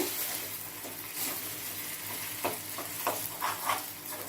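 Tamarind and tomato chutney with green chillies cooking in hot oil during tempering, a soft sizzle with a few quick stirring scrapes toward the end, fairly quiet.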